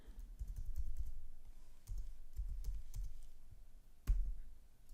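Code being typed on a computer keyboard: quick, close, light key clicks in short irregular bursts with brief pauses, one sharper tap near the end, no voices.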